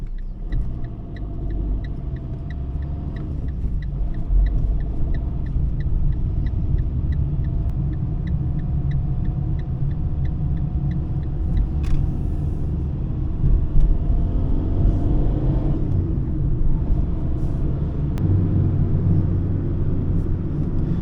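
A Fiat Linea 1.3 Multijet rolls along a village road in a steady low rumble of engine and tyres, heard from inside the car, with a faint regular ticking throughout.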